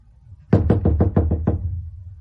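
A rapid series of about seven firm knocks on a wooden door, loud and close, in a quick even rhythm within a radio drama, with no talking during the knocks.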